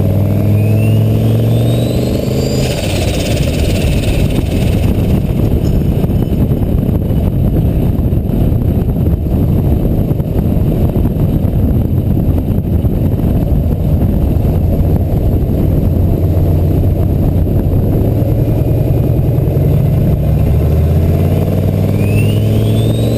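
A turbocharged LQ4 V8 swapped into a Ford Ranger revs loudly and steadily for over twenty seconds, deep engine rumble with rising and falling pitch sweeps, recorded close from a moving vehicle.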